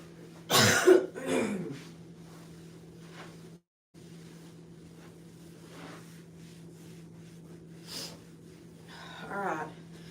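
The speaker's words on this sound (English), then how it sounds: "I gotta blow my nose again." Nose blowing indoors, a loud close honking blast near the start followed by a shorter second blow, then quieter sniffs and rustles over a low steady hum.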